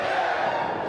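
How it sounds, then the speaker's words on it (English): A wrestling arena crowd roars at a live show in Adelaide, a steady, fairly loud wash of cheering and yelling that fills the whole moment. "Listen to that crowd."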